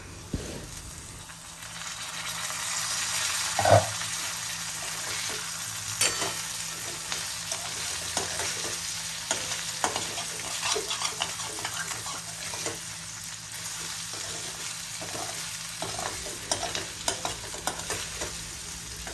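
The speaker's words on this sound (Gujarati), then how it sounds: "આ રીતે ચમચા વડે શાકને એક વખત ચલાવીને ફેરવી લેવાનું જેથી તે બધી બાજુથી એક સરખી રીતે કૂક થાય" Tindora and potato sabzi sizzles steadily in a heavy kadai while a spoon stirs and scrapes through it, producing repeated clinks and scrapes over a continuous frying hiss, with no talking.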